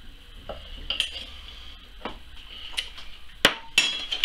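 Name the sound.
tongue press lid being fitted and pressed down on cooked ox tongue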